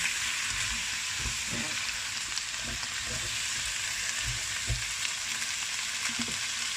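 Beef brisket fries and sizzles in a pan under a constant hiss, while repeated scraping stirs come through at an even pace.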